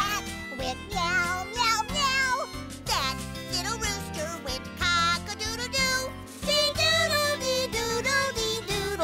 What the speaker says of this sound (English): That little cat went meow.